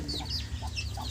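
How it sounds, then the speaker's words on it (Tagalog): Chicken chicks raised by a duck, peeping in a steady run of short high cheeps close by, with several small calls overlapping over a low background hum. "Daming sisiw ang aking pato mga guys."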